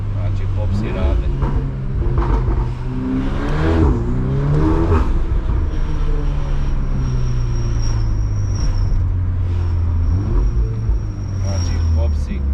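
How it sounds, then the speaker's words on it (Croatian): Tuned VW Golf 8 R with a Stage 2 tune, its engine revving hard and rising in pitch through the gears, with crackling exhaust pops between pulls, loud and close, over a steady road roar. "Znači popsi rade."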